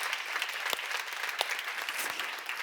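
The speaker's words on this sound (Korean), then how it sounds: "박수를 하세요." A church seminar congregation claps together in a steady, dense burst of applause with scattered sharper claps, moderately loud and without talk.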